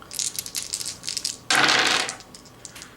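Dice rolled for a Dungeon Dice board game: a burst of rattling clatter about a second and a half in, bright and close, following lighter clicking handling sounds.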